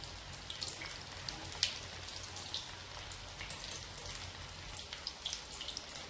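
Chicken 65 pieces frying in hot oil, home-style, as they are stirred: a steady soft crackle and sizzle with scattered sharp pops, moderately close and continuous throughout, no voices.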